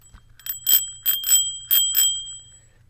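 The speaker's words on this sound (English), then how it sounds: "We need our small victory bell." A small victory bell in Minecraft on the Hermitcraft server rings in three quick pairs of bright, close, metallic dings, each leaving a sustained ringing tone that fades after the last strike.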